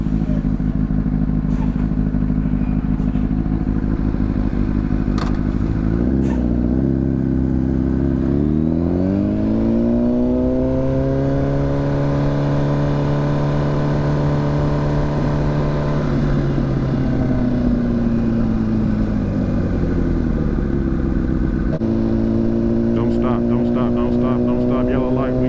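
A motorcycle engine idles, then revs up, holds a steady climbing drone and drops back, loud and close while riding in traffic, with a rider's voice heard over it.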